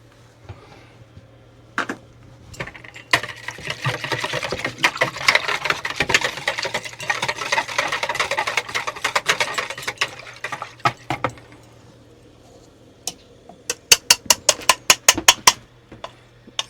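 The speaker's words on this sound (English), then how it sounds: "We'll go ahead and just whisk this in here so we don't forget about it." Salt is whisked into a foamy yeast mixture for pizza dough: a burst of rapid, busy scraping and clicking in the bowl, then scattered sharp taps near the end.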